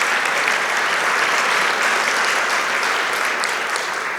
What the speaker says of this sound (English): please give them a quick round of applause